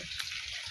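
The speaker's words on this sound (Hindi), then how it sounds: "तो अब हमने निकाल दिया पानी," Water gushes from a farm tube well pump as a steady, bright rushing hiss, heard alone without any talk.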